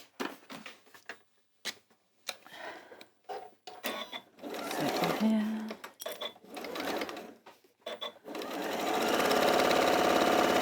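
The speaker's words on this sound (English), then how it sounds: "I'm just going to sew those in place first." A fast domestic sewing machine stitching quilt pieces in place, its whirring motor running in short bursts with pauses between, then settling into a long steady run at the end.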